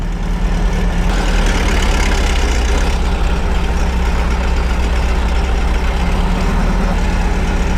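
A VW rail buggy's engine idles steadily while warming up, a loud, continuous low rumbling throb with no breaks, close by and heard alone.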